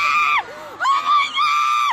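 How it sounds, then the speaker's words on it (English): Screams from a crowd at a Christmas parade as an SUV drives through the barricades, loud high-pitched shrieks in three long bursts with brief gaps between them. "Those in the crowd could only watch and scream in horror"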